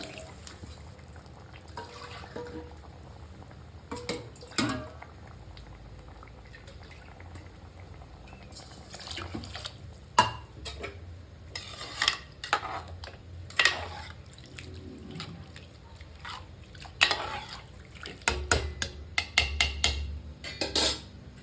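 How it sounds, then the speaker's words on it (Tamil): Two tumblers of water bubble and simmer in a pot for rice and dal, a low churning texture punctuated by occasional clinks of metal utensils and lids. "கொதிக்கிறது பாருங்க இப்படி கொதிக்கிறப்ப தாங்க மூடி போடணும்"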